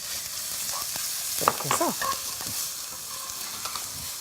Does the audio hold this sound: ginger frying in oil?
yes